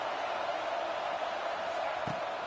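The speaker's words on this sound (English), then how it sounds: "this crowd is rising to the occasion" A stadium crowd roars in the NCAA College Football 26 video game, a steady, moderately loud wash of massed voices with no breaks, a brief low thump near the end.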